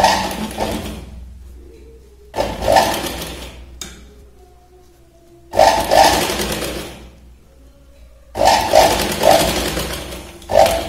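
Sewing machine stitching a princess-cut blouse, running in three loud bursts of rapid mechanical whirring separated by quieter pauses with faint handling sounds.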